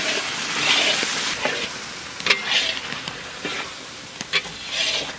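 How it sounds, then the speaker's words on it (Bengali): A Bengali spice paste of green chilli, turmeric and meat masala fries in a pan for a lote (Bombay duck) fish curry, giving a moderate close sizzle broken by stirring scrapes and soft bursts. "মশলা কিন্তু আমার বাম্পার ভাজা হয়ে গেছে"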